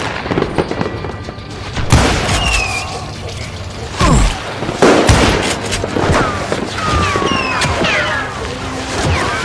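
Gunfire and heavy impacts in the Western shooter game Call of Juarez: Gunslinger. Loud, dense bursts of shots and booms crack repeatedly through a busy battle, with shouted voices scattered among them.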